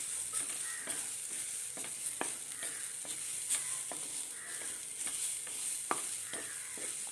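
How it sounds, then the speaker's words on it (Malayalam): Grated coconut and toor dal being dry-roasted in a pan for a Kerala okra tamarind curry, giving a steady soft sizzle with scattered scraping clicks of a stirring spoon, fairly quiet and close, no talking. "തോരപ്പരിപ്പും കൂടി ഇട്ട് കൊടുക്കാം അതിന് നന്നായിട്ടൊന്ന് മൂപ്പിച്ചെടുക്കാം തേങ്ങ നന്നായിട്ടൊന്ന് മൂത്ത് വരണം"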